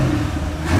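Brief, steady engine rumble from a 2020 C8 Corvette, new from the dealer, as it is revved while driving home, with the pitch rising slightly at the end.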